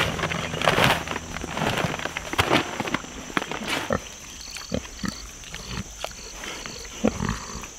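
Pigs on a farm grunt and snort in a quick irregular series, with shuffling footsteps and scattered clatter around them, loud at first and then thinning to sparser, quieter grunts.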